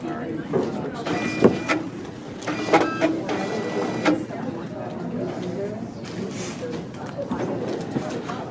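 A paper ballot feeds into an electronic voting machine with a printer-like mechanical whir and a few sharp clicks and thumps in the first half. Faint room noise and quiet voices sit underneath.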